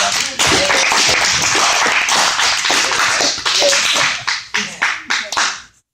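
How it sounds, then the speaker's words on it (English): A crowd at a youth church service applauds loudly and continuously, then the clapping thins into a few separate claps before stopping; voices and cheers mix in underneath. "Everybody stand up and clap."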